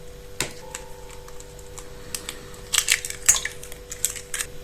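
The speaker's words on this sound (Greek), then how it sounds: "Μέσα σε μια κατσαρόλα θα σπάσουμε 3 αυγά." Three eggs cracked into a pot while making a cheese pie, heard as a few sharp, quiet taps and cracks over a quiet kitchen background.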